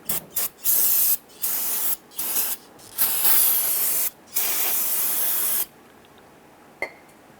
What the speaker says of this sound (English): go ahead and spray it down